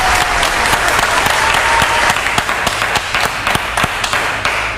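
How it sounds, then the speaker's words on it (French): Steady applause from a crowd, dense clapping sustained throughout with no pauses, loud and close. "Bravo, ça s'applaudit. Applaudissez."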